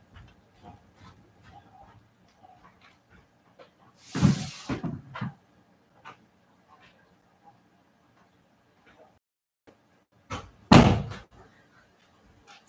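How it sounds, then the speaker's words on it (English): A household door closed during a craft session, two separate loud thuds of the door shutting several seconds apart, with quiet room shuffling and faint low background between them. "I'm going to close the door over here."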